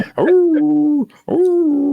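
A human voice imitates basset hounds howling next door, giving two long, mournful 'ooh' tones close to the microphone with a short break between them.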